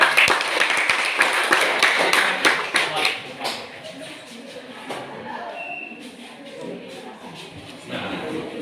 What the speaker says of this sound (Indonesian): silakan beri aplaus kepada